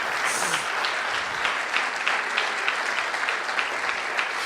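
A crowd applauds steadily and warmly, a dense wash of clapping with no voices heard over it.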